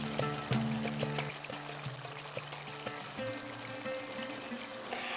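Hot tempering oil with spices is poured over Bata fish in a pan, giving a brief liquid pouring and trickling sound at close range over a steady background hum.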